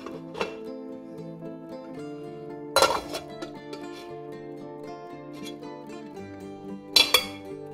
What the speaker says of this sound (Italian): Copriamo la pentola e lasciamo 2 ore senza toccare.